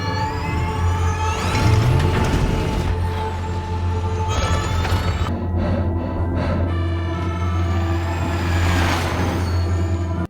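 A garbage truck in a movie scene, with heavy engine rumble, hissing air brakes and clanking mechanical noise, loud and close throughout.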